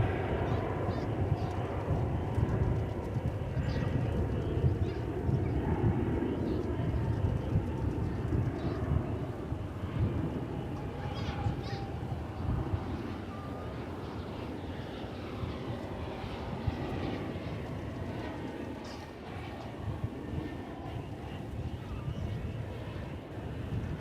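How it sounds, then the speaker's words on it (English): An American Airlines Airbus A321 takes off at DFW Airport, a distant broad jet roar that rumbles steadily and slowly eases off, with people talking faintly over it. "there goes American Flight 2009 off to Seattle"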